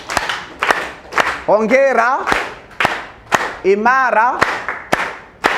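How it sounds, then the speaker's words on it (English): Lecture students clap in a rhythmic sequence of sharp, evenly spaced claps, loud and close, while voices chant and cheer in unison between them. "We are going to have 6 claps for you"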